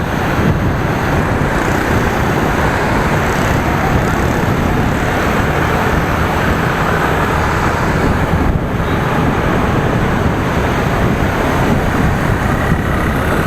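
Steady, loud rush of a motorbike ride through city traffic in Da Nang, Vietnam, with wind buffeting the microphone and broadband road roar throughout, no speech.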